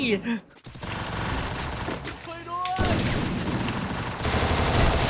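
Rapid automatic gunfire crackles in nonstop bursts during a 4v4 match of the Free Fire mobile game, loud and dense, while someone talks excitedly over it.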